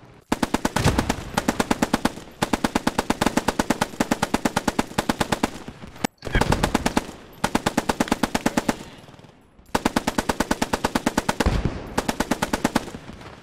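Sustained bursts of machine gun fire in the WW2 video game Post Scriptum, loud and close, three long rapid strings of shots separated by brief pauses, with no talk.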